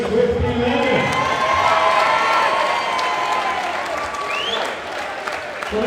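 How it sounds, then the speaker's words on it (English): Crowd at a boxing event in Irlam applauding and cheering a Salford boxer, loud dense clapping with whoops and shouts near the mic, slowly easing toward the end of the round. "Ladies and gents, big round of applause for Kieron Swifty Leonard."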